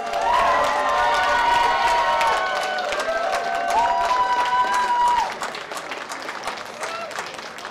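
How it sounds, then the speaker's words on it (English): An audience at a graduation ceremony applauds the graduates with loud, dense clapping mixed with cheering and raised voices and some tonal whoops, then fades to a thinner patter of clapping toward the end. "How about here a round of applause for all of our graduates?"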